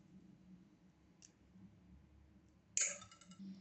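A single sharp, loud snip as 20 gauge rose gold-filled wire is cut, preceded by a faint tick over quiet room hum, with no talking.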